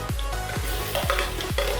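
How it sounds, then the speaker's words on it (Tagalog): Onions and garlic frying in a pan, a steady close sizzle with four rhythmic stirring scrapes roughly every half second, no talk. "pa-brownin ko muna yung sibuyas ng konti"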